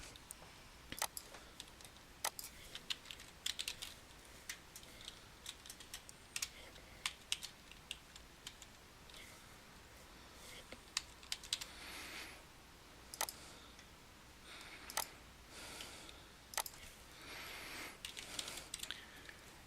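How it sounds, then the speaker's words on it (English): Quiet typing on a computer keyboard, irregular runs of light key clicks with short pauses, continuing steadily throughout. "And again, typing in the required fields."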